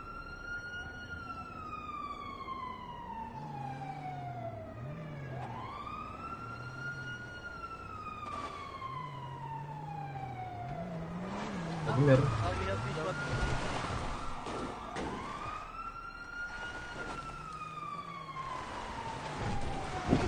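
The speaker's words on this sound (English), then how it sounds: "Sirens." Police sirens in a video game jewelry heist, several wailing tones rising and falling in overlapping sweeps, fairly loud and continuous, with a brief bump of other game noise midway.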